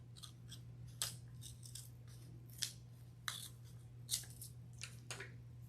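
Scissors cut paper in a slow craft activity, producing soft, repeated snips spread across the stretch, faint and close over a steady low electrical hum.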